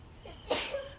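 A single short sneeze bursts out mid-clip during a quiet indoor yoga session in a greenhouse, a brief explosive breath standing alone against faint room tone.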